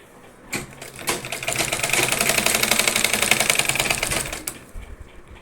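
Sewing machine running a straight stitch to attach elastic onto a saree belt, a fast rapid chatter starting after a few bursts, running steadily about four seconds and then stopping, close and loud with no talking.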